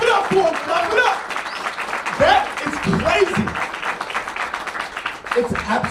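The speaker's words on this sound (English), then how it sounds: "Clap it up for him" Clapping from a mastermind event audience cheering someone on, with hands patting under prominent voices and shouting that run over most of the stretch.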